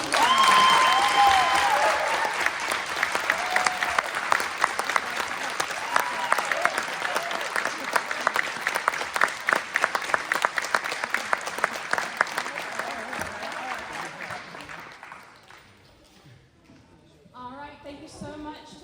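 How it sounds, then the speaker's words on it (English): A gym crowd at a high school basketball senior night gives loud, sustained applause for a player's jersey retirement. The clapping holds strong for about fifteen seconds, then fades out as voices start to talk. "So big, big clap for Peyton"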